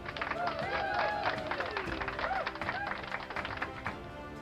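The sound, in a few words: audience applause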